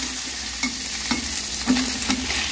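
Dried fish and garlic stir-frying in a hot pan, with a steady sizzle broken by several scraping stirs of a utensil against the pan, close and loud, no talking.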